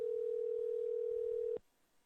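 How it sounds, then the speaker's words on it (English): A phone call produces a steady, unbroken electronic tone that holds loudly for about a second and a half, then cuts off abruptly to near silence. "It's ringing. It's ringing."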